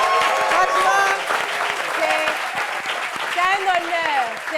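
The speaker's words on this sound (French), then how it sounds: "J'aimerais bien qu'on applaudisse, on ovationne" Audience applauding at a gathering: steady clapping from a crowd, fairly loud and sustained, with voices talking and calling out over it.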